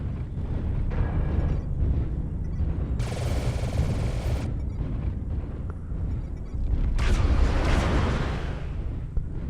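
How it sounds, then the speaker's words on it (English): Rotary autocannons fire in MechWarrior Online, a dense, sustained roar of rapid shots that runs through the whole stretch, with bright bursts flaring around the middle and again near the end, loud and continuous. "Who's shooting those rotaries?"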